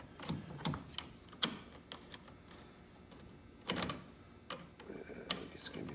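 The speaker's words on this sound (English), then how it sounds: "So I'm just going to stick this in and just turn it like that. So if you only have a screwdriver, this is how you would do it." A screwdriver turned by hand to loosen a banjo fitting gives soft irregular ticks and ratcheting clicks, close but quiet, with no voices.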